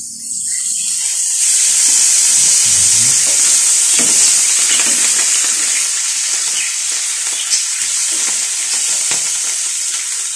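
Mushrooms and onions fry in a pan with a loud, continuous sizzle and steady hiss, close up, with occasional scrapes and stirring taps and no talk.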